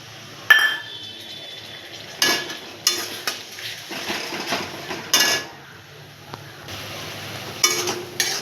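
Garlic, green chili and ginger paste stirred in a frying pan with fried onion: a metal spatula scrapes and clinks against the pan in repeated bursts over a low sizzle, close and alone.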